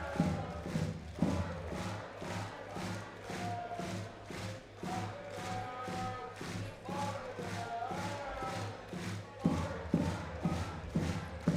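Crowd at a basketball arena during a timeout, a loud steady roar of voices with rhythmic claps or stomps beating in a fast regular pulse throughout.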